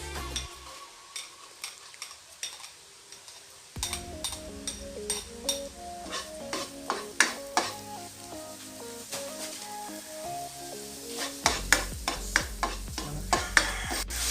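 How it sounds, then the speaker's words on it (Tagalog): Garlic and onion sauté in a hot pan with a steady sizzle, punctuated by repeated close scrapes and clinks of a spatula stirring against the metal; the sizzle grows louder and fuller partway through, with no talking. "Ngayon ay Magigisa tayo ngayon ng bawang at sibuyas."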